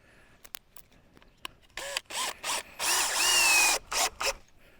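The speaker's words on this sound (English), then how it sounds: "I'm going to screw this one in right here. I don't want this to fall apart, so I'm going to put 4 screws in each board." A power drill drives screws into a board for an off-grid solar array frame: several short whirring bursts and one longer sustained run, close and loud, with small clicks and handling noises between them.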